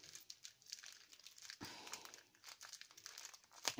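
A wrapped gift package being opened by hand, with soft, close crinkling and rustling of the wrapping in uneven bursts. A brief sharper tear comes midway. The sound is quiet and no one speaks.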